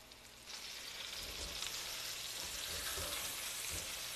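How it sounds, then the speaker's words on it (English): Steady broadband sizzle of eggplant and garlic frying in hot oil in a pan over low heat, constant and close, with faint crackles and no talking. "Most of that sizzle that you're hearing is left over from the hot oil that had been cooking our eggplant."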